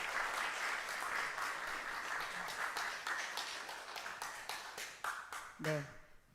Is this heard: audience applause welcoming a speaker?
yes